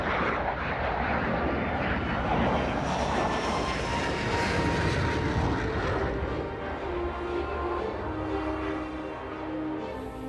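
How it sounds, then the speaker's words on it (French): A Dassault combat drone flies in formation with a Rafale and a Falcon 7X on patrol, and a loud, steady jet roar fills the whole stretch before easing slightly near the end. "c'est un drone de combat qui vole en formation"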